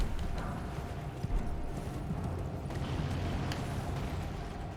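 Rhythmic hoofbeats of a galloping horse pound steadily under a busy Elden Ring game soundscape, with a brief louder thump partway through.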